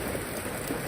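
Steady rain falls on a surface in Batticaloa, a continuous even hiss with faint drops and no talking.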